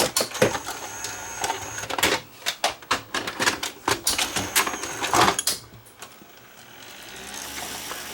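A Sony UVW1800 video tape deck loads a larger tape, giving a dense run of sharp mechanical clicks and clunks over several seconds, then settling into a steady whirring hum.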